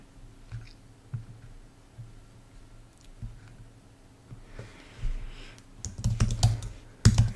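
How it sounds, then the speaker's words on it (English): Keystrokes on a computer keyboard while entering a domain name during Active Directory setup, a sparse scatter of soft clicks building into a denser, louder burst of typing near the end, with no voices. "Here I will type the name"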